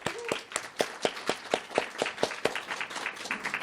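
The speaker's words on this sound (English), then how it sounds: "let's give all three of them a round of applause again" An audience applauds at a conference keynote event, a steady run of sharp claps at a moderate distance, fairly loud and even in rhythm throughout, with no talking over it.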